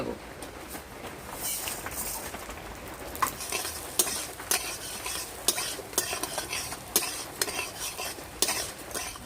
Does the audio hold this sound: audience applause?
no